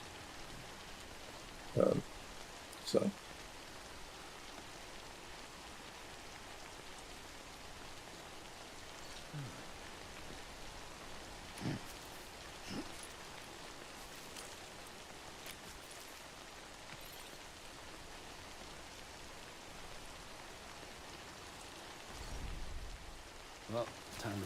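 Steady soft rain falls in the video game Death Stranding, a faint continuous wash that runs throughout with a few light knocks and a brief voice.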